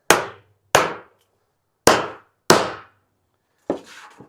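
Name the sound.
rib runner tool dimpling metal roofing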